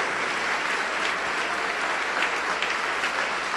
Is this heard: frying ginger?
no